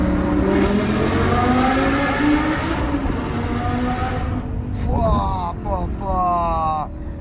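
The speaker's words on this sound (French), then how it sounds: "Alors je vais peut-être vous faire une accélération là." An Audi R8 accelerates hard through a short tunnel with the window down, its loud engine note climbing steadily and then jumping through quick upshifts, echoing close and continuous for the whole stretch.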